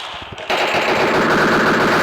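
Automatic gunfire in the mobile battle royale game PUBG Mobile, a brief pause and click then a loud sustained rapid burst of shots running continuously to the end.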